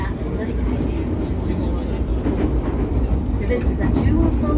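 Running noise inside an E231-500 series Chuo-Sobu line car, MoHa E231-535 with Mitsubishi IGBT drive, between Ochanomizu and Akihabara: a loud, steady rumble with motor whine and faint wheel clatter, continuous throughout.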